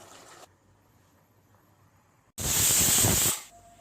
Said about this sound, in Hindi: 1 विजिल आ चुकी है।